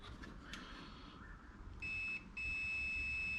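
A continuity tester checks a wire in a vehicle electrical fault hunt, giving a steady high electronic beep that breaks briefly and then resumes, loud and close over faint handling noise.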